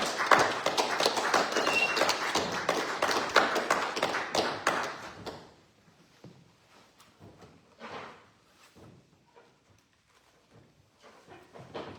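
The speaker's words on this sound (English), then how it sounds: "let's take another big applause for special music" Applause at a church fellowship service after special music. Dense clapping fills the first five seconds and then stops abruptly, leaving a quiet room with scattered light knocks and shuffling sounds.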